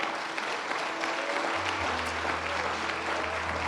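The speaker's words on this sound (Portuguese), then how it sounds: "Você pode aplaudir ao nome do Senhor?" Applause from a church congregation during a Sunday celebration service, a steady wash of many hands clapping throughout, with a low hum entering partway through.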